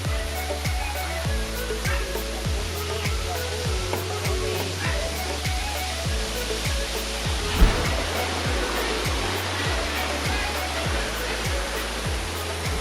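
Rushing waterfalls pour in a steady broadband roar in Cancun, Mexico, with a rhythmic low pulsing underneath throughout.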